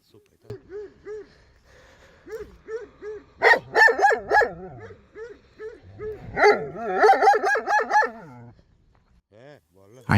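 Working Turkmen shepherd dogs barking in repeated rhythmic bursts, some close and loud, others fainter, with whimpers and yips between.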